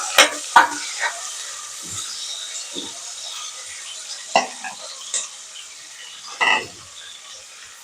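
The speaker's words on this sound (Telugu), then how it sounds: "ఇప్పుడు తరిగిన ఆనియన్స్ వేస్తున్నాను. హైలోనే వేయించుకోవాలండి" Chopped onions frying on high heat in hot oil with cloves and cinnamon, a steady soft sizzle broken by several sharp scrapes and clinks of a spoon against the pan.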